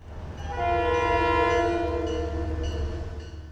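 Train 1889 pulls into Merritt 7 station on a wet day, sounding one long, loud horn blast over a low engine rumble that fades to quieter running.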